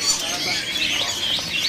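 A green bird, an adult male caged at a bird-selling kiosk, gives a rapid, high-pitched run of chirps and twitters, continuous and fairly close.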